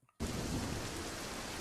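A thunderstorm downpour starts abruptly after a brief quiet moment. It becomes a loud, dense, steady roar of rain with a low rumble underneath.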